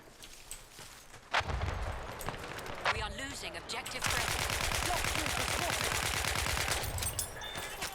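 Battlefield 1 gunfire: a few sharp shots, then a sustained rapid burst of automatic fire running loud and continuous for several seconds, mixed with other game sounds and some voice.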